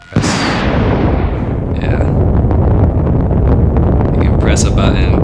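Hyperspeed mode activating in a Rocket League-style space video game: a sudden loud, roaring whoosh with a brief high whine at the start settles into a sustained, dense rumble of rushing noise that fills the whole stretch.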